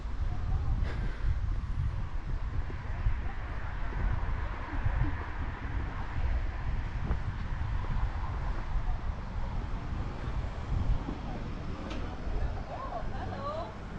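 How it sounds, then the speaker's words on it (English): Strong wind buffets an outdoor seaside setting in Magaluf, Mallorca, as a constant low roar and rumble across the microphone, with voices faintly present underneath. "the wind is really quite strong"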